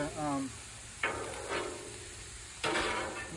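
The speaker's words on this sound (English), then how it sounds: "So that's a good stir fry there." A noodle stir fry sizzles in a pan as bursts of loud frying hiss rise and fade, with a brief faint voice near the start.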